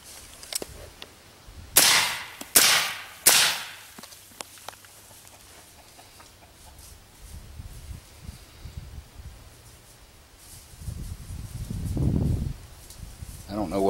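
Three sharp rifle shots fired through a suppressor ring out in quick succession near the start, each a loud clipped crack, followed by quiet outdoor ambience with light movement and a low rumble later.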